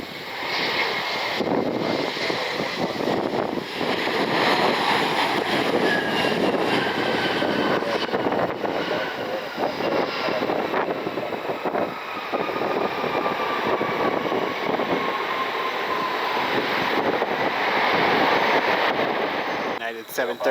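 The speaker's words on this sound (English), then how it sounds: "Got a United Express Embraer inbound from Newark." A United Express Embraer regional jet inbound from Newark, heard as a loud, steady roar mixed with heavy wind buffeting on the microphone throughout, with a faint descending tonal whine from the engines.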